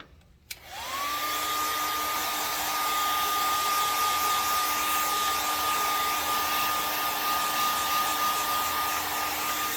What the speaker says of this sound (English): I've used a hairdryer enough that I know I maybe don't want it totally dry, but I want it drier